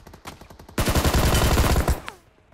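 An enemy player in the BGMI mobile shooter lets off a rapid burst of automatic gunfire, a few spaced shots first, then a dense, close volley that cuts off abruptly.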